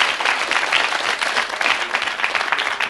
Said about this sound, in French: applaudissements sans rire